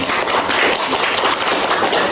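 Classroom students clap for their classmates, a brisk, dense burst of many hands applauding together, loud and close, with no talk over it.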